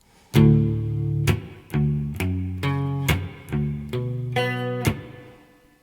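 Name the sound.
electric guitar power chords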